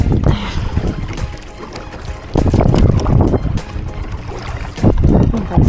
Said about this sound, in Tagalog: Kasi mahangin na dito banda.